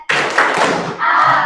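Children clapping out a rhythmic chant, a sharp group clap followed by a short burst of patterned hand claps mixed with young voices, close and lively.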